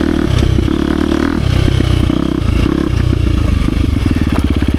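Riding a 2023 KTM 350 XC-F Factory Edition four-stroke dirt bike yields a loud, near engine roar that shifts between revs, ending in a rapid pulsing stutter as the throttle closes under engine braking.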